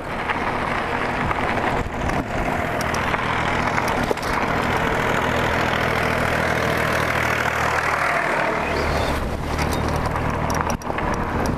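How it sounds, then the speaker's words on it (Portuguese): A tractor engine idles outdoors on a dirt road, a steady low rumble with rhythmic knocking, loud and continuous throughout, with wind and rustling over it and no talking. "Trator."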